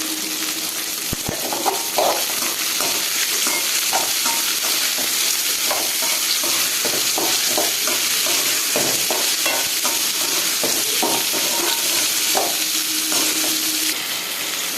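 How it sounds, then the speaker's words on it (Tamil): Ingredients fry loudly in a pan with rock salt for mint chutney. A dense, continuous sizzle runs under rhythmic scraping strokes as the mixture is stirred steadily for about fifteen seconds. "இப்போ நல்லா வதக்கிக்கலாம்."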